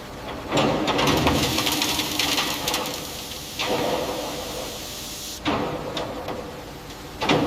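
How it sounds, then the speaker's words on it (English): Large recycling-plant machines crush and compact bicycle frames into dense metal cubes, giving loud, grinding, clattering mechanical noise in several long bursts separated by brief shifts and pauses. "At the recycling facility, bicycle frames are crushed and compacted into dense metal cubes"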